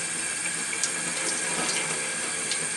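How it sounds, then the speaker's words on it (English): Water poured from a measuring cup over an old IBM computer case, a continuous splashing trickle with occasional drips, close and steady. "So I will use this measuring cup here, and we'll put some water in it and pour it over and to wash this off."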